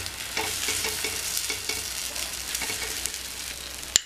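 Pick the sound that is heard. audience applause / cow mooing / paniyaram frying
paniyaram frying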